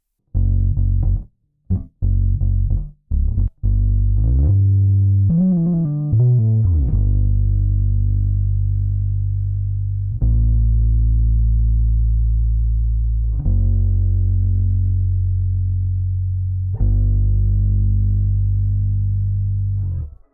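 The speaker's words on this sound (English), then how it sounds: "here's what it sounds like with some compression, distortion, and some EQ" A bass guitar recorded through a Solid State Logic SSL 2 interface plays a few short plucked notes, then sustained low notes that ring out, thick and gritty with compression, distortion and EQ.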